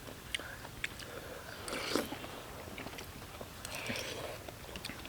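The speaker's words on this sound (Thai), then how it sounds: "มันเคี้ยวกรึบ ๆ" Crunchy chewing and biting of Thai eel curry with fish roe, close and quiet, in irregular bursts with soft mouth sounds and brief murmurs between bites.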